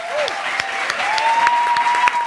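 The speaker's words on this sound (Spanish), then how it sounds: "Un aplauso para Heikar.com, claro que sí." An audience applauds on a Spanish-language revival comedy show, a short steady burst of clapping with a faint tone running underneath.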